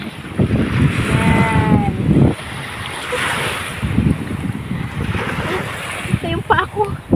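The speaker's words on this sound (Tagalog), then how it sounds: "Lakas na ng alon, no? Ayan, yung lakas ng alon." Strong sea waves surging and breaking at a beach, a loud continuous roar of surf and wind buffeting the microphone, with a person talking over it briefly.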